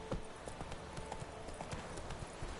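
Geralt's horse Roach trots in The Witcher 3, a steady run of close hoof clip-clops in an even rhythm over low outdoor ambience.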